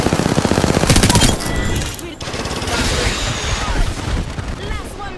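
Automatic weapon fire in the video game Apex Legends: a rapid rattling burst at close range, then a sharp crack and a continuing heavy barrage of shots and impacts, loud and dense with no pause.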